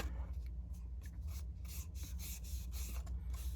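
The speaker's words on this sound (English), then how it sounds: "let's just rub that round and just add some more color to this piece" Color being rubbed onto a paper card, a soft, close scratchy rasp repeating in short strokes, quiet and without talk.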